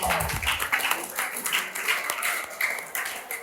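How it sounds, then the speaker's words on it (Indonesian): High school students at SMAN 6 Jakarta clap together during an outreach session, producing a dense, continuous round of applause from a crowd nearby. "Oke, tepuk tangan dulu dong."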